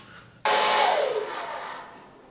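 A household clothes dryer switched on, starting abruptly with a loud whooshing blast that settles into a steady airy roar and gradually eases, close by with no talking.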